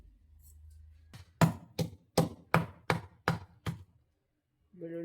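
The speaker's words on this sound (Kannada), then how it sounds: "ಬೆಳ್ಳುಳ್ಳಿಯನ್ನು ಚೆನ್ನಾಗಿ ಜಜ್ಜಿ ತೆಗಿತೇವೆ." Garlic cloves crushed with the peel on, whole, for an egg masala: a quick run of about seven sharp, hard knocks on a board in steady rhythm, close and loud, preceded by a low hum and followed by a brief tonal sound.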